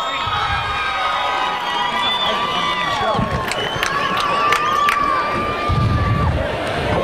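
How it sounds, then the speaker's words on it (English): A crowd cheering and shouting at an MMA fight event, a sustained roar of voices in an arena, with an announcer's amplified voice carrying over it. "Make some noise if you like that bout."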